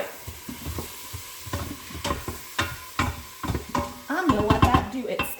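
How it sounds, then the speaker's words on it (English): Chicken tortilla soup ingredients sear in a pot in a quick cooker, a steady sizzle under repeated close metallic clinks and scrapes of stirring that grow busier toward the end. "we're going to let that sear about 3 to 5 minutes"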